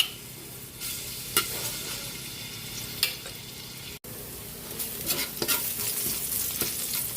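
Garlic sizzles and crackles steadily in hot cooking oil, with sharp stirring scrapes and clatters of a utensil in the pan, close and continuous, for a crab and squash coconut soup.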